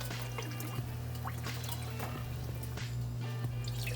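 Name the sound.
pouring chicken stock and water into ramen broth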